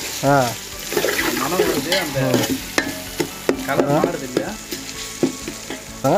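Brinjal pieces fry in hot oil and get stirred with chilli powder, a steady sizzle punctuated by scraping spoon strokes and clinks against the pan, with a voice talking over the cooking.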